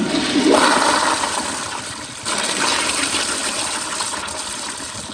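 A 2019 Kohler Highcliff Ultra toilet with a flushometer flushes in a close, loud rush of water. A sharp surge at the start gives way to a sustained gushing roar that slowly tapers.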